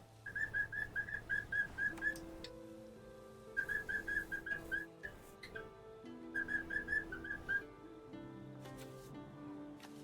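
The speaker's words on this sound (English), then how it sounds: "he was nestled into my elbow making his little chirping noises" A pet bird gives three bursts of rapid, high, repeated chirping notes, close and clear, over soft background music.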